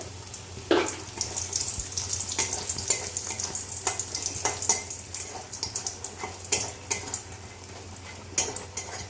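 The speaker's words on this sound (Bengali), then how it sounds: "এই দেখো বড়িগুলো ভেজে নেবো" Homemade bori, sun-dried lentil dumplings, fry in oil in a pan with a steady close crackling sizzle, broken by sharp scraping and clinking knocks as they are stirred, and no voices.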